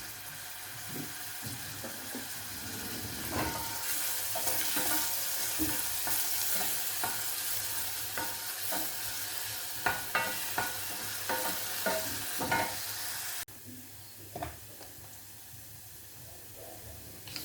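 Onions fried in a pan for an iftar meal, with a steady sizzle beneath repeated scraping stirs of a utensil against the pan, close and moderately loud, the hiss easing near the end.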